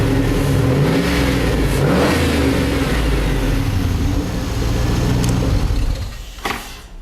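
Chevy V8 engine swapped into a BMW, revving hard and loud up close in repeated sweeps, then dropping back to a rough idle at the end.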